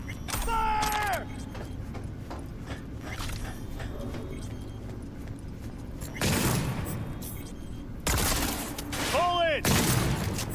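Gunfire in a modded Cyberpunk 2077 firefight, with bursts of shots and mechanical clatter breaking out in clusters, quieter gaps between them, and shouted combat voices over the action.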